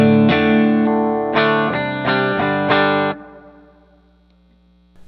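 Electric guitar with a clean tone strums a handful of sustained chords in a steady rhythm, then rings out and decays to near silence; no talking.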